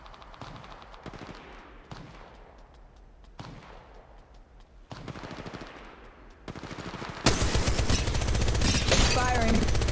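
Apex Legends gunfire comes in several rapid automatic bursts separated by short pauses, then ends in a louder, denser stretch of sustained shooting and game noise.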